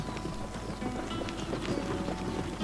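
Racehorse hooves pounding during a brisk early morning workout, a quick, rhythmic clip-clop of galloping steps heard close and steady over faint wind and background rumble.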